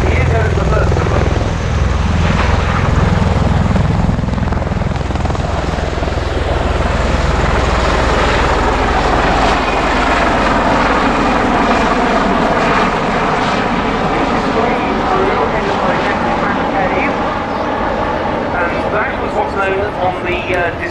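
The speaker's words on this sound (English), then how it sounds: "It's the MV-22B of the US Marine Corps." US Marine Corps MV-22B Osprey tiltrotor in a flying display at an airshow, its loud throbbing rotor and engine roar continuous and close throughout, shifting in pitch as it manoeuvres, with a commentator talking over it.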